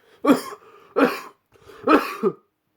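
Three sharp, fairly loud coughs close by, evenly spaced about a second apart, the last one doubled with a short extra hack, and nothing else around them.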